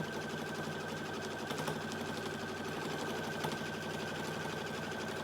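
Domestic sewing machine stitching a quilt a quarter inch from the seam, a steady rapid mechanical whir with fine rhythmic needle clatter, continuous and close for the whole stretch with no talking.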